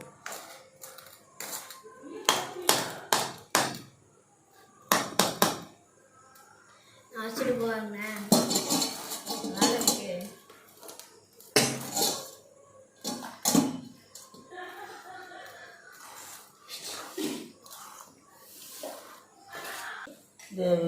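A spoon clatters and scrapes against a metal pan as a thick jaggery mixture is stirred, making repeated close, sharp knocks in uneven bursts. A voice talks over parts of it.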